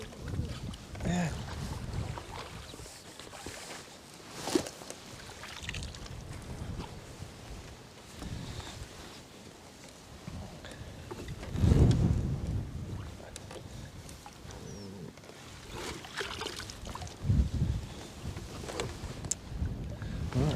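Steady wind buffets the microphone beside a fishing lake during a live match at Portland Fishing Lakes' Canal Pool, a continuous rumbling roar that swells in gusts and drowns out everything else.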